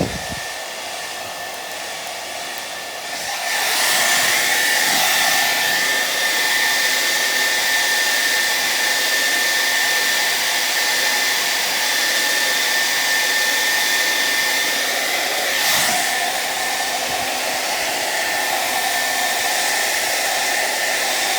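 A hair dryer heats old window tint, starting with a faint background hum before switching on to a loud, steady whirring blow with a thin whine that runs unbroken, with a brief dip partway through.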